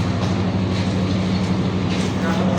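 Steady low rumble of a train, captured while walking aboard it, with a continuous droning hum and faint clatter from start to finish and no clear speech.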